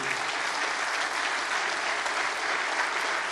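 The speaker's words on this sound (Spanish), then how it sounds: "Les invito a que le demos un aplauso de gratitud." An audience at a Christian conference in Honduras gives a grateful round of applause for event staff, a thick, continuous wash of many hands clapping, steady and fairly close throughout.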